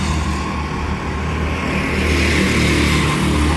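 Race cars circle PGP Motorsports Park during a race, their engines forming a loud, continuous roar that swells slightly as the pack draws nearer.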